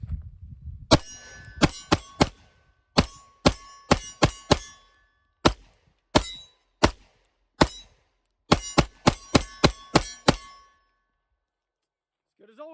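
A Springfield Prodigy 9mm 1911 pistol fires in quick strings of shots, each crack followed by the bright clang of a steel target ringing downrange, with short pauses between groups.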